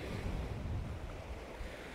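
Strong wind buffets the microphone at a sea-fishing beach at Immingham Wall on the East Coast, mixed with the constant wash of waves and surf, a dense, unbroken roar.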